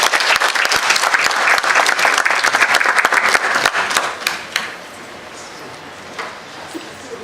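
Loud audience applause at a student affairs expo, thick clapping for about four seconds that then thins out into scattered claps and fades to quiet.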